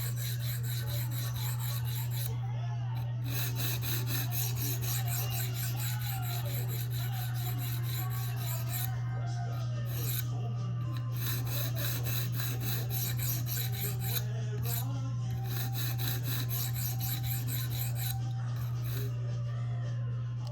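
A Spyderco REC Manix 2 knife blade is drawn steadily across coarse sharpening stones, including an 80 grit CBN, giving a continuous close rasping scrape with a constant low hum underneath.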